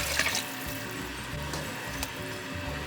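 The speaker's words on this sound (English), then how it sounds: "I'm going to add some water." Water pours steadily into a pot of smoked catfish soup, a continuous splashing flow with faint clatter beneath.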